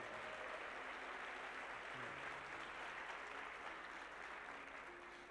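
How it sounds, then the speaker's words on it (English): A motivational-speech audience applauds for the speaker's son, a steady, dense wash of many hands clapping throughout, fairly far and moderate in level, with no voice on top. "Give him a round of applause"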